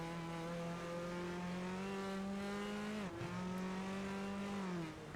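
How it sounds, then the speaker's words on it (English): A race car engine in the Rennsport racing game holds a steady droning tone, dips sharply for a moment as the car lands and bogs down under braking, then recovers and keeps droning. "Suddenly the engine bogging down when you land while having the brake on."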